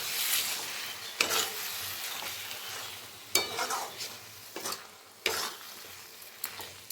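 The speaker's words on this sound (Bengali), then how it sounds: "এখন আমি আরেকটু কষিয়ে নেব।" Chicken with spices and mashed tomatoes being stir-fried in a pan, a soft sizzle broken by several sharp spatula scrapes and clacks at irregular intervals, nearby and fairly quiet.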